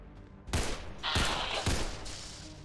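Blaze-bullet gunfire in the strategy video game XCOM 2: three sharp, loud bursts of shots, each with a bright ringing tail, separated by short gaps over a quiet background.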